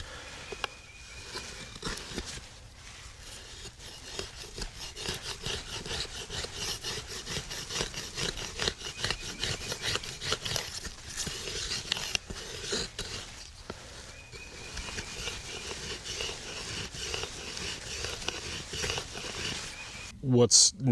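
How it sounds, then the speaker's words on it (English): A Boker Micro Tracker pocket knife planes along a wooden stick, producing continuous scraping, rasping strokes that repeat steadily for the whole stretch, close and clear with no voices. "So here I'm just kind of planing the surface of this stick"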